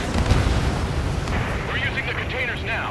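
In the Ace Combat 7 video game, a deep, sustained explosive roar rumbles continuously and loudly, with layered blast noise and bursts throughout, and game voices come in over the din.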